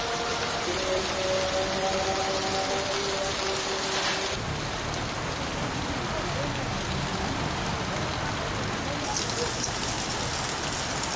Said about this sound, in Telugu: వర్షం భారీగా పడుతుంది